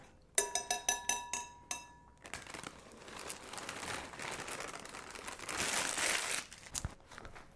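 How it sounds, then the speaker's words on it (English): A 15.25-ounce bag of Duncan Hines cake mix is handled with a run of sharp crinkling plastic clicks, torn open, then poured in a steady rushing hiss into an egg mixture, close and fairly loud with no talking. "So we're just going to open this bag up and put it right in with our egg mixture."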